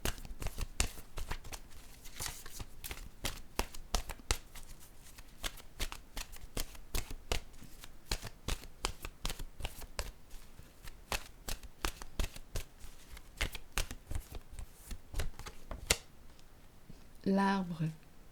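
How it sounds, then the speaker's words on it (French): A deck of oracle cards shuffled steadily for a long stretch, rapid crisp slaps and riffles close by, ending with a brief spoken voice. "Je vais piger maintenant une nouvelle carte de mon oracle de l'âme intuitive"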